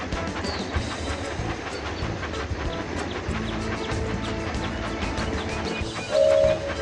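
Toy-style train rolling along the tracks in a kids' train video game, a steady rhythmic clickety-clack rumble under busy game music, with a brief brighter tone near the end.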